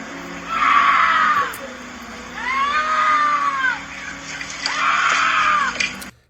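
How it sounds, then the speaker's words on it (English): A woman screams and wails in a recorded clip, three long, high, anguished cries with rising and falling pitch, loud and close, separated by brief pauses. "I don't like a lady who shouts and wails like that."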